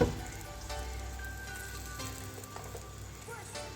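A lifafa paratha sizzles in ghee on a hot pan with a steady, close frying hiss and occasional soft crackles, with no speech over it.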